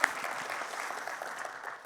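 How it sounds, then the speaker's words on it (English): At a Syracuse University alumni awards ceremony, an audience gives a steady round of clapping, dense and even throughout and fading slightly at the end. "It's another round of applause"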